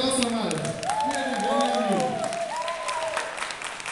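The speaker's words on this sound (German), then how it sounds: "Ein Applaus nochmal." Audience applause at a song contest final, a steady wash of clapping from a crowd that carries on throughout, with a singing or speaking voice drifting over it.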